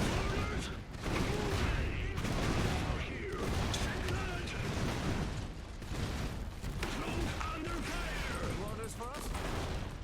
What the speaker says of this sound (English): I'm just suffering slow artillery bombardment here